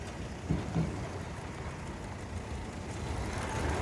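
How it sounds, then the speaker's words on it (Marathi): Large heavy vehicles pass along a dusty, unpaved road in Naigaon East, a low, steady rumble of engines and tyres heard from a moderate distance without any talking. "हे मोठे मोठे आले गाड्या"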